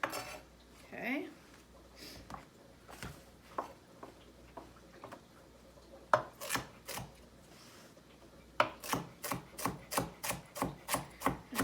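A knife slices food thinly on a cutting board while making soup. It starts with scattered soft cuts and rubbing, then settles into a fast, even run of crisp, close knocks on the board.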